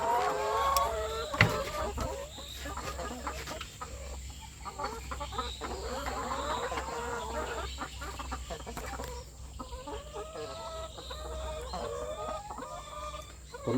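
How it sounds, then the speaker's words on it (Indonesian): Laying hens in a backyard coop on a small home farm cluck and chatter continuously, a busy overlapping flock heard up close over a low steady hum. "Ini bagian dari ayam petelur saya yang ada di kandang ini."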